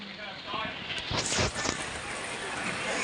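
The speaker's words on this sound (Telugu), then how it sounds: "అదిగోండి, వర్షం కూడా పడుతుంది" Steady rain falls outdoors as a continuous, fairly loud hiss with scattered patter, holding evenly across the whole moment with no clear voices over it.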